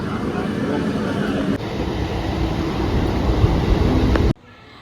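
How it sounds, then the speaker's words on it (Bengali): Loud, steady rumble of a train pulling into a station, continuous for several seconds before cutting off abruptly near the end. "ট্রেন ঢুকে গেল"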